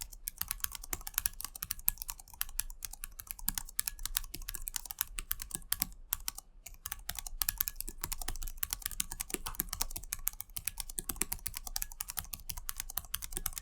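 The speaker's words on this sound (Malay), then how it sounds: "Ini typing test untuk anda nilai sendiri bunyi dia macam mana." Rapid typing on a gaming laptop keyboard with Cherry MX Brown mechanical switches, dense continuous clacking keystrokes with a brief pause midway, close and fairly quiet, no voices.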